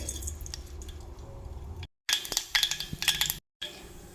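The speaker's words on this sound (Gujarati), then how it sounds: "અહીંયા આપણી રાઈ ફૂટી ગઈ." Mustard seeds crackle and pop in hot oil while tempering vegetables for South Indian sambar, a close scatter of sharp clicks and small spits between short silences.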